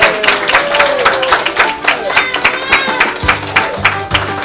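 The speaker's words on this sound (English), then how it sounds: "So let's give them one big round of applause again for all the hard" An audience at a children's nursery-rhyme performance claps and applauds, a loud patter of many hands with some voices and a few low thumps mixed in toward the end.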